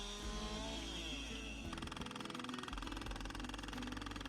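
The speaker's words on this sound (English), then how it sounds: "A chainsaw is used to sharpen untreated fence posts to drive into the stream bed." A chainsaw sharpening untreated fence posts for beaver dam analogs in a stream restoration project roars steadily, shifting pitch as it cuts into the wood, close and loud with no speech.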